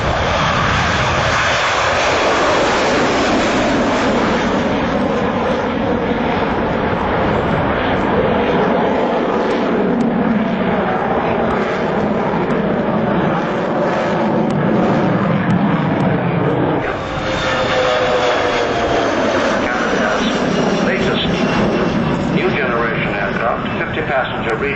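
Jetstream 41 turboprop regional airliner flying past at the 1992 Farnborough Airshow, a loud continuous engine drone that swells and shifts as it passes, with a narrator talking over it throughout.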